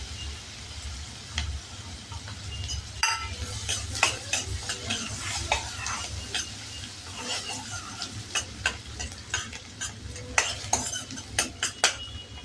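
Finely chopped onion dropped into hot oil with garlic pieces for matar khima, a close, steady sizzle under busy metal spoon scrapes and clinks against the pan.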